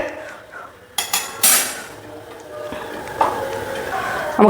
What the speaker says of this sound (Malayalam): നമുക്ക് സ്റ്റൗ എത്തിച്ച് ചട്ടി അടപ്പിലോട്ട് വെക്കാം